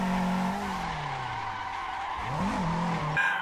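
Tires of a stock AE86 skid and squeal while drifting in a driving simulator, a loud continuous screech over the wavering drone of the engine revs, alone with no talk.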